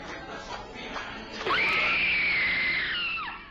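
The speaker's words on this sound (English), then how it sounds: "What you just heard was supposedly the final screams of a Disneyland employee named Deborah Stone." A long, high, sustained scream rises abruptly over muffled crowd ambience during the America Sings show at Disneyland, holding for nearly two seconds before breaking off, loud and slightly distant as if from a recording.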